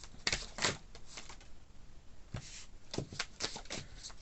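Tarot cards being shuffled and drawn from the deck, a few soft riffles and flicks with papery slides and taps in irregular bursts, close and quiet.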